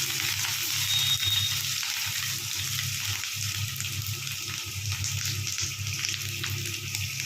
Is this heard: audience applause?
no